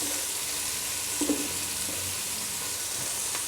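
Onions frying in oil in a kitchen pan for biryani, a steady broadband sizzle that holds evenly throughout with faint clinks, close and moderately loud, no talking.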